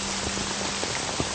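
Steady heavy rain falls at night, a dense, even hiss with scattered drop impacts, loud and close throughout with no voices.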